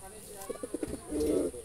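Jalali wild pigeons cooing nearby, a quick series of four or five soft pulsed coos followed by a longer rolling coo, close and moderately quiet against low room noise.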